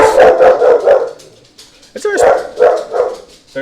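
A pet dog barks in a few short, loud, repeated bursts close by, with a brief pause before another run of barks, partly mixed with voice-like sound.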